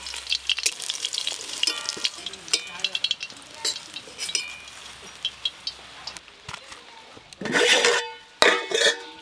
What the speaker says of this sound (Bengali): এই বড়াগুলো ভাজা হয়ে গেল তুলে নেব